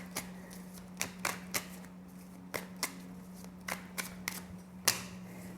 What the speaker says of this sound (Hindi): मैं सारे कार्ड्स आपके लिए ले लेती हूँ